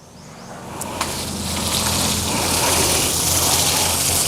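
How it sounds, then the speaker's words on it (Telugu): Water pours and gushes onto a pure rubber dairy-farm mat, about 45 kg and 6 by 4 in size, then drains across its surface in a steady, fairly loud wash that builds slightly over a few seconds. "చూడండి నీళ్ళు ఎట్లా వెళ్ళిపోతుంది."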